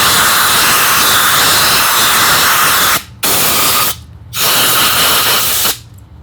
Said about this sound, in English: I'm just going to spray down the inside of the mag